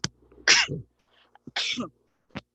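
Two loud sneezes close to the mic, each with a sharp hissing burst, separated by a brief pause, then a quick sniff.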